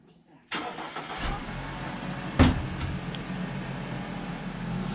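Remote start of an Audi Q5 from the 2009–2017 range: the engine cranks and catches with a sharp burst, then settles into a steady, close idle.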